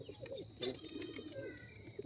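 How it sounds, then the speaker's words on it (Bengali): Pigeons coo in a rooftop flock of highflyer birds, soft rolling calls overlapping closely with faint chirps and a brief louder burst near the middle. "পায়রা অনেক পায়রা আছে"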